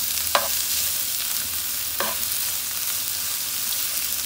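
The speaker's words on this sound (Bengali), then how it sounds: "আমি হালকা করে এটাকে একটু তেলে ভেজে নিচ্ছি" Ingredients for a vorta mash fry lightly in a little oil with a steady, soft sizzle, punctuated by two distinct spoon scrapes against the pan.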